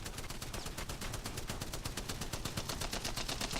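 Rapid automatic weapon fire while hip firing in the shooter Apex Legends, a dense, steady stream of shots at an even fast rhythm, loud and continuous throughout.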